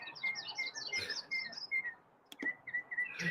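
Backyard guinea fowl giving repeated shrill, chirping calls in quick bursts, fairly close and clear, with a brief pause before the calls resume.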